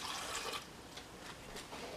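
A cup of water poured into a blender cup while preparing a pineapple smoothie, a soft, steady splashing pour lasting a couple of seconds, close and fairly quiet with no talking.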